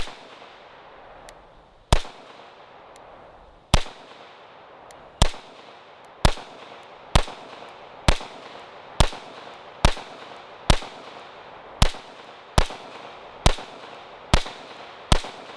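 An STI 2011 Combat Master handgun fires sharp, loud single shots outdoors, at first spaced a couple of seconds apart and then in a quicker, steady rhythm of about one shot per second, with no talking.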